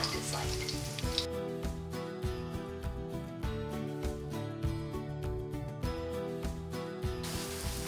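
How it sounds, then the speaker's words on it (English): Coated walleye fillets pan-fry in a continuous, close sizzle with crackling pops layered over a steady hiss. No one speaks. "I'm gonna get them into our pan"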